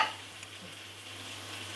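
A chicken chindhamani masala being stirred with salt in a pan, a soft steady scraping and sizzling texture that runs continuously at moderate level without talk.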